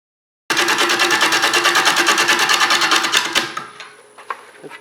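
Wood lathe spinning a rough tree log at 285 RPM sets up a loud rapid rhythmic thumping rumble. It starts abruptly, runs steadily for about three seconds, then winds down and fades.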